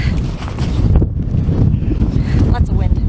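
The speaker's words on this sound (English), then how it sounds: "Lots of wind" Strong wind buffets the microphone outdoors on a farm on a cold 30–40 degree day, making a constant heavy low rumble with gusty rustling on top.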